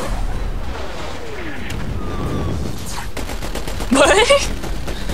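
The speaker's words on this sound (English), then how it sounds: "opening fire on innocent citizens" A fusillade of gunfire in the Saints Row The Third video game, firing on city streets: rapid, fairly faint pops under game noise, with a louder burst near the end and a brief spoken exclamation.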